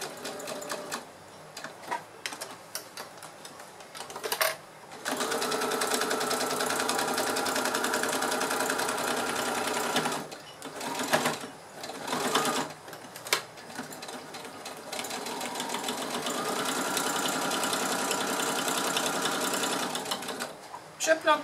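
Sewing machine stitching fabric scraps, heard as a rapid, steady mechanical chatter in long runs, stopping and restarting with short gaps, close and moderately quiet, with someone speaking French in between.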